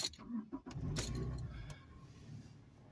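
A manual-transmission car is started with the clutch pedal pressed in: a few close clicks and a key jangle, then the engine cranks and catches into a steady idle, with a voice talking nearby.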